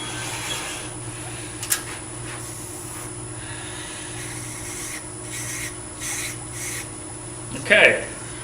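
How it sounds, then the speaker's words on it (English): Sanding inside a small turned wooden nesting box on a spinning lathe, a steady rasping rub over the machine's low hum, with a few brief louder scrapes. "Sand a little inside if you want."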